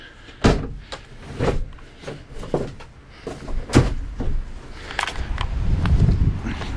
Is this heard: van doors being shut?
yes